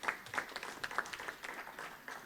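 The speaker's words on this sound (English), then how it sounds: "Let's give her a round of applause" Sparse, faint applause from a conference plenary audience, scattered individual claps spaced irregularly rather than a full ovation.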